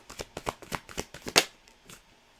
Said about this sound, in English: I'm going to pull you some cards from a different deck too.